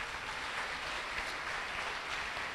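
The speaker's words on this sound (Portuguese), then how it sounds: "Dê mais uma salva de palmas ao Senhor." A church congregation applauding during a worship service, a dense, continuous wash of clapping that stays even and unbroken from start to finish.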